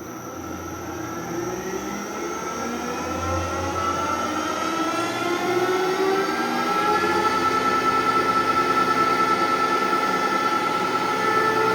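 A Colchester Student 2500 metal lathe running on a single-phase VFD gives a steady, close mechanical whine with layered tonal hums that slowly shift, rising gradually in loudness, with no talking.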